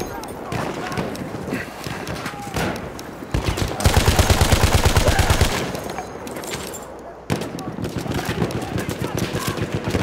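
Bursts of MP18 submachine gun fire in the Battlefield 1 Sinai Desert conquest match, rapid loud rattling volleys mixed with other battle noise and players talking over it.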